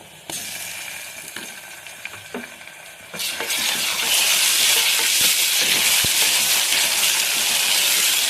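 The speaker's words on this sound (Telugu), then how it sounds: "పచ్చివాసన పోయే వరకు వేస్తాను" Ginger garlic paste goes into a pan for country chicken curry. A few scattered clinks and stirring taps come first, then a loud, steady sizzle takes over and keeps going, close up, with no talking.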